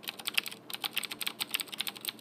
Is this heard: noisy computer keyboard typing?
yes